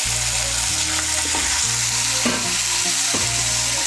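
Ginger, garlic and green chili paste frying in hot oil, a loud steady sizzle with stirring scrapes and a couple of sharper spatters, close and continuous without any talking.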